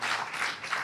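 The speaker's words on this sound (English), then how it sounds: "Stop clapping." Brief burst of audience clapping, a short scatter of hand claps at moderate level, indistinct and quick.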